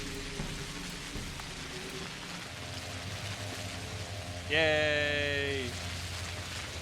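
Rain in the video game Pathologic hisses steadily in the background while a voice speaks briefly and a loud rising tonal game cue cuts in partway through.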